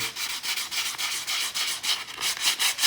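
180 grit sandpaper rubs back and forth across a Vans shoe sole in quick, even strokes, a close, dry scratching rhythm with no talk.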